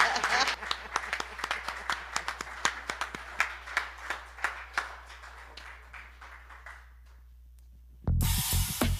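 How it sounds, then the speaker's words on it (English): An audience at a spiritual service claps in scattered, uneven applause that thins out and fades to quiet after several seconds. "that deserves some applause."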